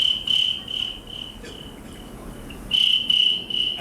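A voice imitates crickets with a thin, high, steady chirping trill, close and clear, pulsing in short bursts with a brief dip in the middle.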